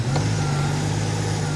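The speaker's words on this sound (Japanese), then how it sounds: "せっかくなんでエンジンの音も聞いてもいいですか？" A Subaru Alcyone engine idles steadily with a low, even hum and no revving, recorded close by and alone.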